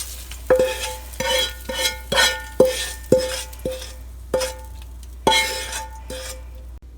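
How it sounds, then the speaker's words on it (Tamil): Spoon stirring fried tempering into a bowl of cooked pumpkin for a yogurt raita, with a series of sharp metallic clinks and scrapes against the bowl repeating roughly every half second over a faint hum. "இப்போ தாளித்ததை இந்த பவுலில் ஆட் பண்ணிக்கலாம்"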